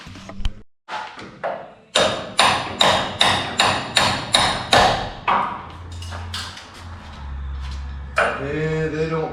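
A hammer strikes metal about ten times in a steady rhythm, each blow sharp and ringing, followed by scraping and a few scattered knocks.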